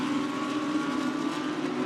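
GT race cars circling in a China GT Championship race, a Lamborghini and an Audi sharing the same engine and chassis, give off a sustained, steady engine tone with a held pitch, at moderate distance without voices.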